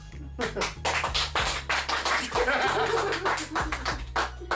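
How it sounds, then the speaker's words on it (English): Sharp claps with a few scattered taps and brief chuckles, layered over a droning musical background. "I need 8 people to clap"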